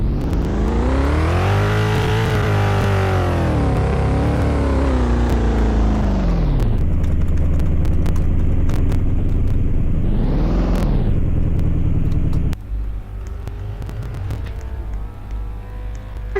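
A car engine runs loud and close throughout, with its pitch rising and falling as it revs and shifts, then settling into a steadier lower drone near the end, with no talking.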